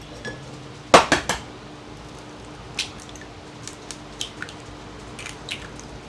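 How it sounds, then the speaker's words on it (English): Three large room-temperature eggs go into keto cinnamon roll batter in a bowl, with a quick cluster of sharp cracks and clinks, then scattered lighter taps and drips of utensil against bowl. "So you're going to add your 3 large eggs at room temperature."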